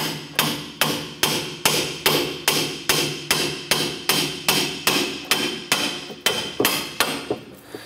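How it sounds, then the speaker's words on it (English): A hammer strikes steadily at a clevis fork to drive it off the strut of a 2008-2012 Honda Accord, with about fifteen sharp, evenly spaced metallic blows ringing out close by, with no talking. "We're gonna use our hammer to go ahead and work our clevis fork off of our strut."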